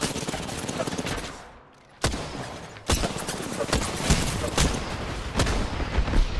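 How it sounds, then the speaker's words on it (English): Gunfire in the Apex Legends video game, with a fusillade of bursts and single loud shots cracking close by after a brief lull, some faint talk mixed underneath. "I'm getting shot at."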